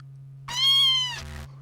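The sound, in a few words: cat meowing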